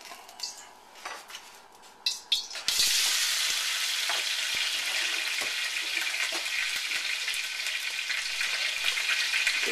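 Jumbo shrimp and scallops for a salt and pepper dish hit a hot wok after a few utensil clatters, setting off a loud, close, steady sizzle that keeps going to the end.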